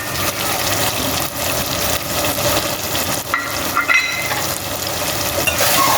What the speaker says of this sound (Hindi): अब हम इनके साथ मसालों को अच्छी से भूनेंगे